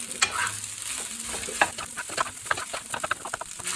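Egg yolk being stirred and mixed for egg fried rice, with repeated light scraping and clinking strokes over a faint sizzling background and no voices.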